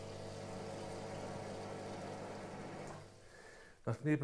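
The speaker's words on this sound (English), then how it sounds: "I first need to make sure that the water is drained from the steam cylinder" Water drains from the cylinder of an electric steam generator unit used for a spa, giving a steady gurgling, pump-like hum that cuts off near the end before a few brief knocks.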